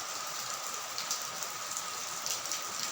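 Steady rain patters on surfaces, a dense continuous hiss of drops with small splashes scattered throughout.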